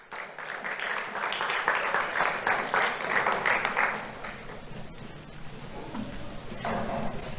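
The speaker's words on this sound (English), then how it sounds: "Let's have a round of applause for Jaceli Lanza." Applause from an audience at a sheriff's office youth awards ceremony, strongest in the first few seconds and then thinning into scattered claps and room noise.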